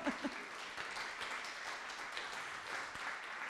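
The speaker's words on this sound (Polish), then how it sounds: "należą się wielkie brawa" An audience applauds at a Polish social campaign event, a dense, steady wash of clapping that stays fairly even throughout, with a couple of sharper claps near the start.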